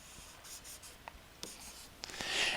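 Pencil or pen sketching a graph on paper: soft, quiet scratching strokes in short bursts with brief pauses, growing a little louder toward the end, no voices.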